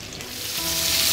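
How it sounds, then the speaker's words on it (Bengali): Pieces of koral fish fry in soybean oil in a frying pan over medium heat, a dense, loud sizzle that swells steadily louder through the brief stretch, with no talking. "এখন চুলো মিডিয়াম রেখে এগুলোকে একটু 1 পিট ভেজে নিচ্ছি"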